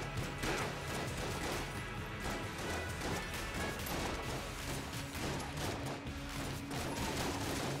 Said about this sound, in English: every time I use the Excalibur, it shoots a few shots